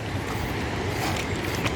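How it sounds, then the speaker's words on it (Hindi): A monsoon-swollen mountain waterfall in a forest roars as a steady, loud, broadband rush, continuous and close with no pauses or voices over it. "बरसाती जो झरना है उसका शोर बहुत ज़ोर से आ रहा है।"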